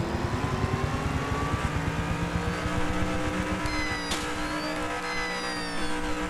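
Car engine revving and accelerating in an open-world game chase, a steady loud motor drone with rising pitch sweeps throughout, with a brief squeal near the end.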